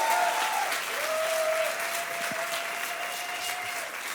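A church congregation applauds steadily and fairly loudly at a French-speaking service, the dense clapping holding at an even level throughout while a long sustained tone runs faintly beneath.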